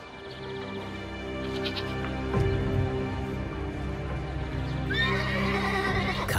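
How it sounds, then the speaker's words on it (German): A horse lets out a loud neigh, then a shrill whinny rising and falling, over a steady background rumble. "Ein stolzer Preis für ein stolzes Pferd."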